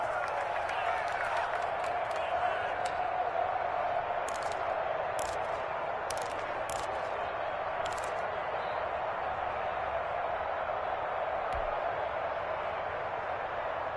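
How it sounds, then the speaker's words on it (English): A football stadium crowd roars in a steady, dense wash of cheering and applause, with a few sharper claps and whistles, while a commentator talks over it. "as this crowd rises to make things difficult"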